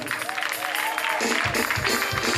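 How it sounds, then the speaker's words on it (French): Church congregation clapping loudly in rhythm to acclaim the Lord during a worship service, steady dense applause with crowd noise filling the room. "Acclame très fort le Seigneur."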